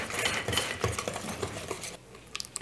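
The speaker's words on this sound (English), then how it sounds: "And just mix this till it's combined." A utensil mixes flour into gluten-free pumpkin crumb cake batter in a bowl, making close scraping and clinking strokes in a quick irregular rhythm that fades briefly near the end.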